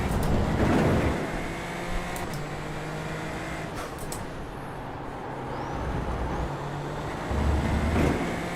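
A race car engine roars on track in a sim racing game, a loud sustained drone with shifting revs and gear changes, a brief lull, then building again, with no talking.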